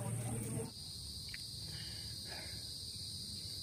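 Steady high-pitched cricket chirring fills the background, continuous and fairly close, with a brief louder rumble at the very start.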